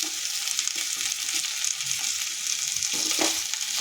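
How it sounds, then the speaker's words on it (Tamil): Chopped cauliflower and potato sauté in hot oil in a pan, a steady close sizzle running throughout with occasional scraping stirs near the end. "இப்போ காலிஃப்ளவர் உருளைக்கிழங்கு அரிஞ்சு வச்சதை இப்போ போட்டு அது கூடயே வதக்கிறோம்."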